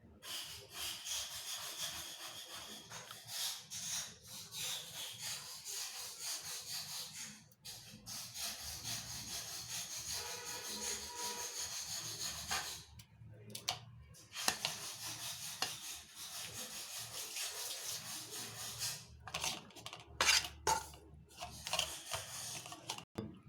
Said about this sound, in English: now I have mixed the rice also, and it is very homogeneous